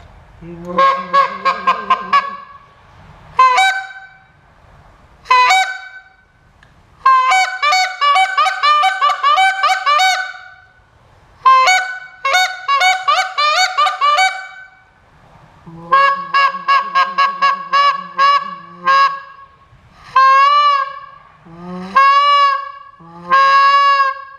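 A Flambeau Stormfront Arctic Fury goose call blown in loud, close bursts of honks and clucks, with rapid series separated by short pauses, imitating a goose.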